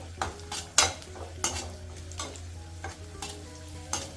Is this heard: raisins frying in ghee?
yes